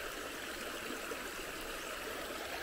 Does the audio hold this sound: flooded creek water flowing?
yes